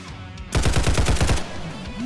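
An automatic weapon in a shooting video game fires a rapid burst of about eight loud, close shots. A quieter tail of game ambience follows.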